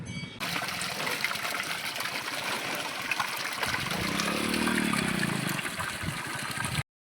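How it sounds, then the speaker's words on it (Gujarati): Water gushes and splashes steadily for cows to drink at a trough beside a village temple, a continuous near rush that swells slightly in the middle before stopping abruptly. "ત્યાં ગૌને પાણી પાઈ લેવી"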